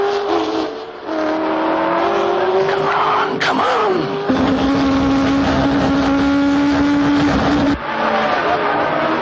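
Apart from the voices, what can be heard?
race cars racing on a track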